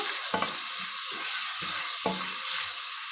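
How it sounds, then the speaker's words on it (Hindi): Two grated carrots being sautéed in a pan, a constant hiss of frying under a few soft scraping strokes of a spatula, close and without voices. "2 गाजर को हमने कद्दूकस कर लिया है, ये डाल दीजिए। इसको थोड़ा सा इसमें भून लीजिए।"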